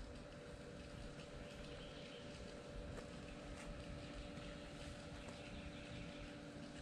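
Cordless Aiper robotic pool vacuum running in a pool and pumping water out its exhaust, a faint steady motor hum with a low watery churn beneath, constant throughout.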